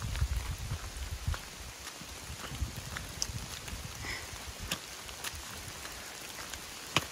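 Rain falling outdoors in Virginia, a soft, steady patter with scattered sharper drips and taps landing close by, fairly quiet throughout.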